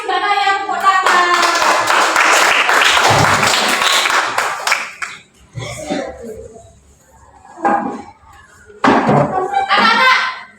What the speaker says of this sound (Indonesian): Terima kasih Mbak Naya, tepuk tangan.